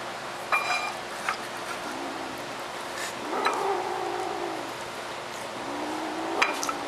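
A kitten gives a few faint, short mews, spaced apart, with occasional light clinks in a quiet indoor room and no talking.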